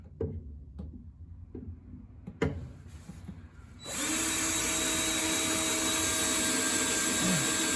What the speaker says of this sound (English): I drilled the hole in the wrong place. Absolutely shocking. Let's do this one. Maybe in the right place.